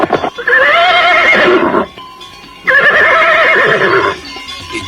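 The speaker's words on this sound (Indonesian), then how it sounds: "Mereka berkuda siang malam, sehingga akhirnya mereka tiba di Candi Jajahu." Horses being ridden give two loud, close whinnies, each lasting over a second, with faint hoof clip-clop between and after them.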